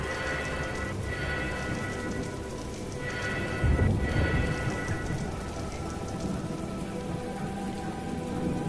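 Heavy rain pours steadily in a forest scene of the video game Myths of the World, a dense, continuous hiss throughout, with a brief low rumble midway like distant thunder.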